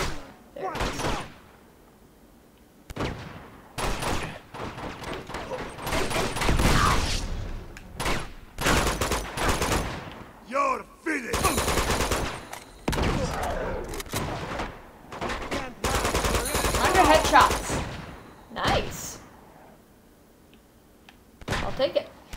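Gunfire in the video game Uncharted 2 Among Thieves: loud bursts of shots and explosive blasts come in clusters, with a player talking between and over them.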